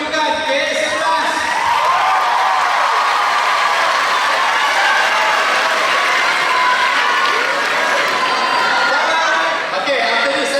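A school audience applauds group K11 with loud, continuous clapping mixed with cheers, whoops and children's shouting, while voices call out over the crowd.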